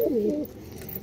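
A Madras pigeon gives one short, close cooing call, then fades into quiet room background.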